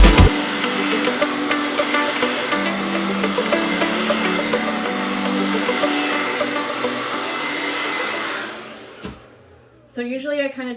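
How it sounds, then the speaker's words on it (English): A loud, steady blow dryer roars for about nine seconds while drying hair wrapped around a brush, then cuts off abruptly, leaving quiet before a brief voice. "So I wrap it around and then hit it with a blow dryer."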